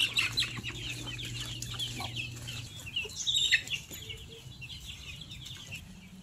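Chickens cluck and squawk busily while being fed commercial feed, with overlapping calls from several birds, a low steady hum underneath and a louder flurry of clucking near the middle; no one speaks.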